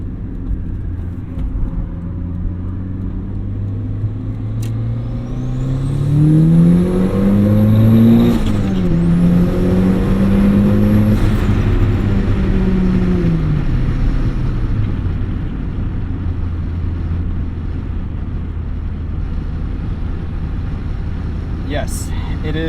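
A turbocharged Mazda Miata driving on the highway, its engine droning steadily with a rising whine from the spooling turbo, heard from inside the car at a close, constant level.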